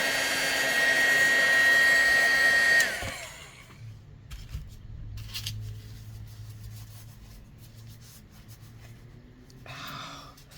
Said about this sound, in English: I would recommend using a heat gun rather than a hairdryer